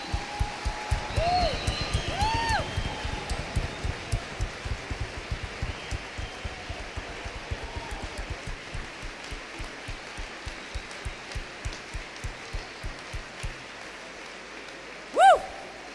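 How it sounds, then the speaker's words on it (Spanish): Rhythmic unison clapping from a church congregation beats steadily throughout, gradually fading, with a few whoops and cheers rising over it and a sharp shout near the end. "démosle un fuerte aplauso al Señor."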